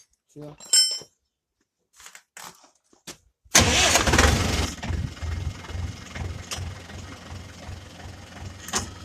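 DTZ 5404 tractor engine starting after some clinks and brief talk: a loud sudden crank and catch, then settling into a rough, throbbing idle close by.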